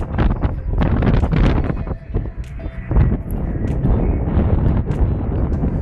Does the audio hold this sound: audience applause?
no